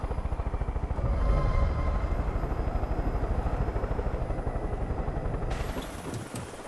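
Helicopter in the video game Far Cry 5 with a steady, loud rhythmic rotor chop throughout and continuous engine drone, fading slightly near the end.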